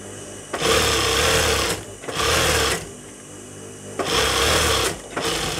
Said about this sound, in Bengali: দেখেন আমার বিলের একটা সেলাই দেওয়া হয়েছে আমি আর একটা সেলাই দিচ্ছি